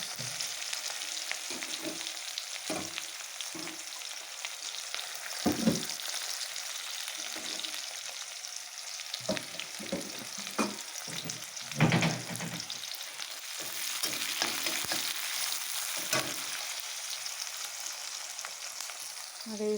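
Onion and garlic frying in hot oil in a pan before marinated chicken is added, with a continuous close sizzle and intermittent scraping stirs throughout.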